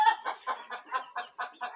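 Rhode Island hens and roosters on a small farm cluck in a quick, steady series of about eight close, loud calls, with no one talking.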